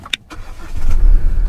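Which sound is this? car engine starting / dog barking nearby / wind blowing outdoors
car engine starting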